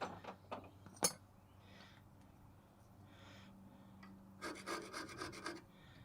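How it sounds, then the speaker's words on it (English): Rust is scraped off the rear brake parts of a 2003 Ford F150 in a garage, with a sharp metallic clink and then bursts of close, rasping scraping strokes in a quiet space. "You want to clean off the rust."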